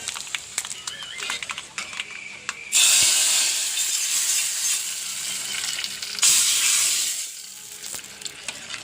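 Mustard seeds, two fenugreek seeds, dried red chillies and curry leaves crackle and sizzle in hot oil for a sambar tempering, a steady close frying hiss that swells loudly around the third and sixth seconds, no talking.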